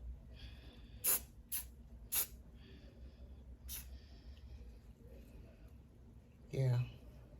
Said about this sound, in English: I'm just spraying it in green.